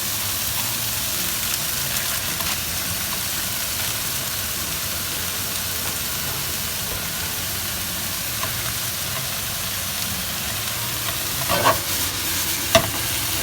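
Prawns and noodles stir-fried together in a pan, a steady dense sizzle running throughout with occasional scrapes and clacks of the utensil near the end, no talking.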